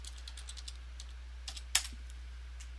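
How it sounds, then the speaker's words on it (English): Close, light keystrokes on a computer keyboard, a quick irregular patter with one sharper clack, over a steady low electrical hum and no speech. "let's go look it up right now."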